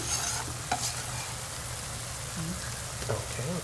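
Napa cabbage ribs stirred in a hot frying pan, with a steady sizzle under scraping and clattering strokes that recur every second or so, close and fairly loud.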